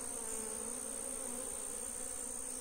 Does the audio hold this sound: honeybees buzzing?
yes